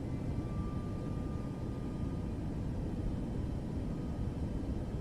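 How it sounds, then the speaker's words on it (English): Fixed-wing airliner engine roar spooling up for takeoff in Microsoft Flight Simulator 2024, a steady, loud, broadband rumble with a faint whining tone that holds level throughout. "We're ready for takeoff."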